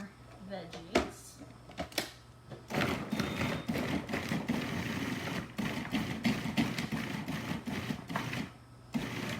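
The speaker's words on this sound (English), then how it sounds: "This is a 12-cup food processor." A Cuisinart 12-cup food processor chops vegetables for gazpacho with a loud, continuous motor whir and rattle lasting several seconds, set between short bursts of clattering at the start and end, with faint voices nearby.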